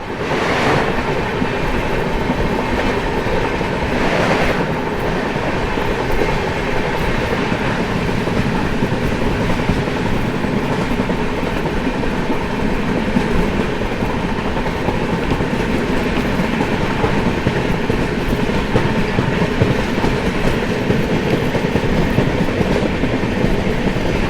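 Geetanjali Express train running on the rails, a loud, continuous rumble and rattle of wheels and carriages heard from inside, with rhythmic clatter throughout.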